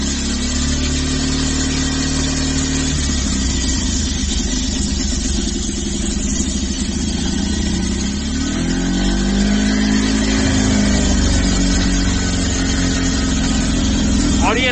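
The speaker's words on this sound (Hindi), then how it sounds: "और ये लगभग आपको 1 मिनट तक कंटिन्यू इंजन को स्टार्ट रखना है।" A Bajaj Pulsar 150 motorcycle engine runs steadily at idle during throttle body cleaning, with a revving rise in the middle; someone talks over the loud, continuous engine throughout.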